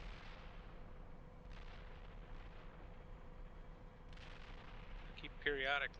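Tank fire in the simulator Steel Beasts Pro PE comes as two faint, distant, broad rumbling booms a few seconds apart, followed near the end by a short tonal electronic-sounding blip.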